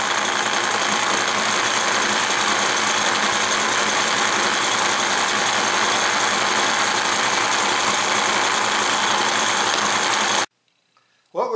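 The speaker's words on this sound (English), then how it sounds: "I'm usually able to restore them pretty well using this stainless steel wire brush." A stainless steel wire brush wheel grinds continuously against a deer antler, a loud, dense whirring rasp that runs unbroken for about ten seconds before cutting off abruptly into near silence.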